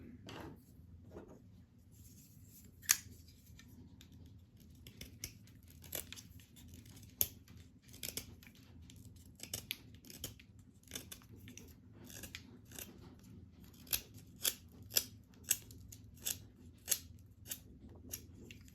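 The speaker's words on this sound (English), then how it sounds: "Let's go ahead and sharpen a pencil with it real quick." A pocket knife whittles a pencil in a series of sharp, close scraping cuts, irregularly spaced and quicker toward the end, over quiet background hum.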